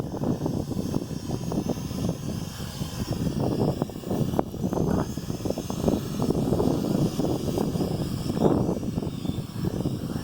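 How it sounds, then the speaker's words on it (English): A World Tech Elite Venom Pro GPS drone flies close by, its propellers giving a steady, loud buzzing whir that holds throughout with small swells in pitch and strength. "Flying drones."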